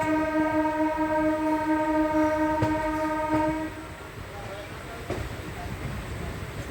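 A MEMU local train leaving Khambhat railway station toward Anand sounds a long, steady multi-tone horn for a few seconds, followed by the low rumble and clatter of the moving train.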